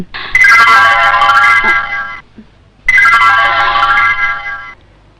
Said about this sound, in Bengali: ম্যাডাম আপনার ফোন।